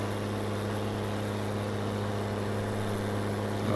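Noisy vehicle engine in Farming Simulator 19 on an Irish farm map, a steady low drone with a constant pitch, loud and unbroken throughout with no talk.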